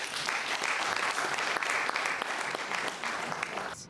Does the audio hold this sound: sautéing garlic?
no